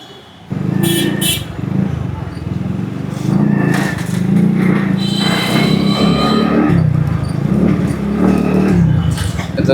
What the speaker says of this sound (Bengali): গাড়িটা এখন টেস্ট ড্রাইভ দিচ্ছি গাড়ির ইঞ্জিন একদম ওকে আছে এবং ব্রেকিংটাও ওকে আছে